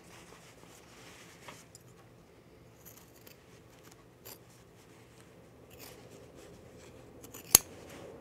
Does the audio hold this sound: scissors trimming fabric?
yes